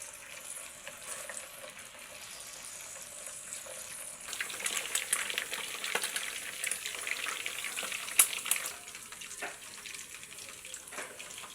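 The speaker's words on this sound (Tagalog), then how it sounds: "Prito natin ang ating gagawing sisig." Pork mascara for sisig frying in a pan, a soft steady sizzle that swells louder midway with bursts of crackling and stirring, then eases back down, with no talking.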